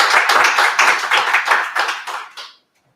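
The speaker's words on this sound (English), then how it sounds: "Big round of applause for Simon." A meetup audience applauds a talk on systems thinking and DevOps, with dense, close clapping that holds steady for about two and a half seconds before stopping abruptly into silence.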